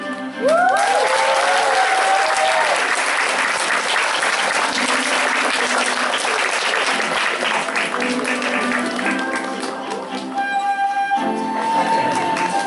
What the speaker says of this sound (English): please give a warm round of applause for our dance performers